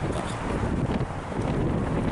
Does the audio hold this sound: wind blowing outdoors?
yes